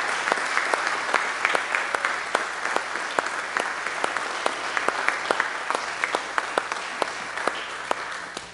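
A church congregation claps steadily for several seconds, a warm, sustained round of applause with no voices over it.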